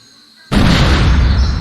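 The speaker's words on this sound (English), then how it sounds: "I'd better fire the cannon." Cannon fired in Monkey Island 2: LeChuck's Revenge, a sudden loud boom bursting in after a near-silent moment and rumbling on as a sustained blast to the end.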